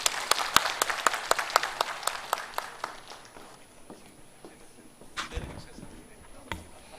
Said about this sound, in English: a big round of applause to all the speakers